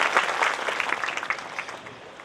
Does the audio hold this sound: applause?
yes